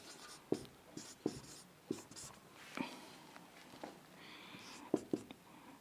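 Chalk or marker taps and strokes on a board during a Class 10 maths lesson on the converse of Thales theorem, with irregular close knocks and scratches and faint speech beneath.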